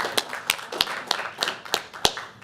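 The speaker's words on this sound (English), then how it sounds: "Let's give her a round of applause." Sparse clapping at a school board meeting honoring a member's birthday: a handful of distinct, sharp hand claps spaced irregularly, close and moderately loud, with no voices.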